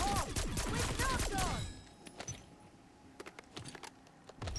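A few rapid bursts of SWAT 556 marksman rifle fire in Black Ops 6, close and loud with ringing tails, then fading to quieter clicks and faint mechanical handling sounds.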